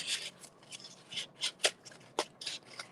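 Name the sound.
scissors cutting recycled cardboard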